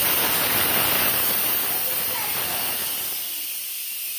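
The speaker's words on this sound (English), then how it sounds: "The pressure off on the pressure cooker." A pressure cooker releasing its pressure makes a loud, continuous hiss of escaping steam, close and steady, fading slightly toward the end.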